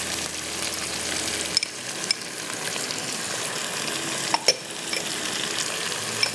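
Chopped tomato and yogurt frying in a pan while being stirred, a steady close sizzle running throughout with a few brief clinks of a utensil against the pan.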